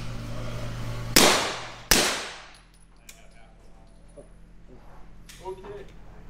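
Two sharp, loud pistol shots from a Beretta M9A4 fitted with a Silencer Co. Omega 9k suppressor, fired outdoors on a range less than a second apart, each with a decaying echo, then quieter movement and faint voices.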